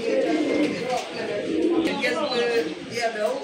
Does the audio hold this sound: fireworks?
no